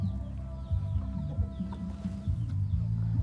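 Hill-tribe chickens clucking close by in a steady, busy stream of short calls over a low, continuous background, with a few higher bird chirps scattered through.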